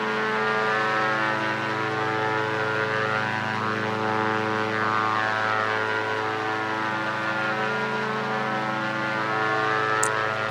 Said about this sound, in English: Loud airplane.